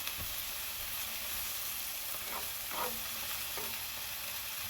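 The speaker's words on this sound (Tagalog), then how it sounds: "Igigisa na natin ang ating mga sibuyas, bawang, carrot at saka panin." Onions, garlic and carrots sauté in a pan, a steady broadband sizzle with a few scrapes of stirring, close and alone without talk.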